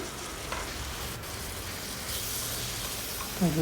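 Tomatoes sautéing in a pan for spicy kara chutney, a steady close sizzle and hiss with a brief scrape of stirring near the end.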